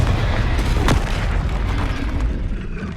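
A Confringo fire spell blasts in the Hogwarts Legacy video game, a loud booming explosion with a sharp burst near the start, then a sustained rumbling roar of combat effects throughout.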